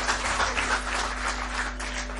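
A conference audience breaks into steady applause, many hands clapping together in a dense, even patter over a low electrical hum.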